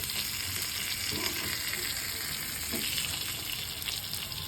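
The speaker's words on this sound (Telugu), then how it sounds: "ఆ ఫ్లేవర్ వచ్చేంత వరకు ఈ కుక్ని ఫిష్ చేసుకుంటే తవా ఫిష్ ఫ్రై రెడీ అయిపోతుంది" Fish frying on a tawa gives a steady, dense sizzle close by, with no talk and no pauses from start to finish.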